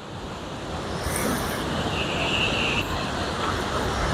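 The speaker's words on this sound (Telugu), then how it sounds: "సో వాటర్ ఫ్లో అంతా అట్లా అని వెళ్ళిపోతూ ఉంటుంది అన్నమాట. చూడండి, చూసి హాయిగా వాటర్ సౌండ్ని ఎంజాయ్ చేయండి" Water flowing in Yellowstone National Park, a steady broadband rushing roar that holds evenly for about four seconds, loud and continuous with no talk over it.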